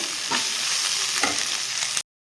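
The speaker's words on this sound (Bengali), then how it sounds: "ফুলকপি আলুটাকে সুন্দর করে আমি নাড়িয়ে চাড়িয়ে ভাজা ভাজা করে নেব" Cauliflower and potato sizzle and fry in a pan while a utensil stirs them in a few scraping strokes, close and steady, ending abruptly.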